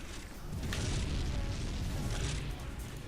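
A grenade explosion in a competitive match of the team video game Mordacity, heard as a loud, dense low boom that rolls on for about three seconds under busy game noise.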